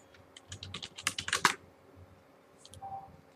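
Keys clatter on a computer keyboard as an SQL insert command is entered, a quick burst of close, crisp taps that slows, pauses, then resumes with a few more strokes.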